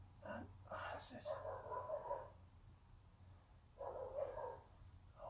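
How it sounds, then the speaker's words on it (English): Dogs barking in a series of yelping bursts, mid-level and somewhat distant, heard around the start and again near the end over a low steady hum in a home setting. "there's my dogs barking"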